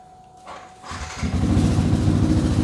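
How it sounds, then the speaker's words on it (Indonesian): A 2017 Yamaha R15 V3 motorcycle with an aftermarket exhaust cranks briefly and fires up close by, then settles into a loud, steady, throbbing idle. "Basa-basi kita langsung nyalain."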